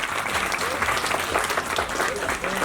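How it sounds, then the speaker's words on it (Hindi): Audience applause at an academic excellence awards ceremony, dense steady clapping from a large crowd filling the whole stretch at an even, loud level, with voices faintly mixed in. "हम दूसरों के लिए जितनी तालियां बजाएंगे उतनी तालियां हमारे लिए बजेंगी।"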